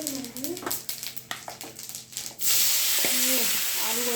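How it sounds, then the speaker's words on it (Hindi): Potato and cauliflower curry being tempered in a hot pan, a steady loud sizzle that surges up suddenly after scattered clinks and stirring, with a voice talking at times. "आलू गोभी की सब्जी छोक रही"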